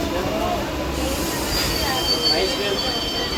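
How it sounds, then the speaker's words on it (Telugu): A train rolls slowly through a station with a steady low rumble, thin metallic wheel squeals rising and falling over it. "ట్రైన్ అయితే ఆగింది ఇంకా ఆగలే చిన్నగా మూవ్ అవుతుంది"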